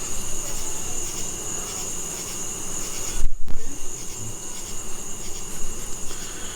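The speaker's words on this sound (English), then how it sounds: "Yes, it's full of bees." Honey bees massed inside a bee trap during a trap-out, a dense close buzzing drone with a high steady whine, broken midway by a brief rubbing thump.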